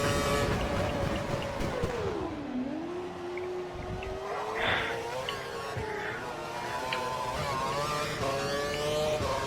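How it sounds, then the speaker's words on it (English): Lotus Formula 1 car in the F1 2012 racing game at Abu Dhabi, a high engine whine that dips and climbs through gear changes, with brief tire squeals and faint background game sounds. "This Lotus car is pretty good to drive"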